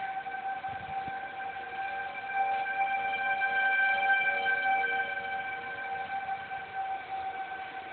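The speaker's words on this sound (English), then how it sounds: "Tornado sirens are going." Tornado sirens in Lincoln wail steadily at a distance, a sustained layered tone swelling slightly and then easing, with no voices over it.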